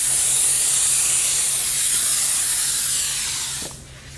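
A spray gun gives a part one full pass of activator before hydro dipping: a loud, steady close hiss of spraying that runs nearly four seconds, then cuts off abruptly.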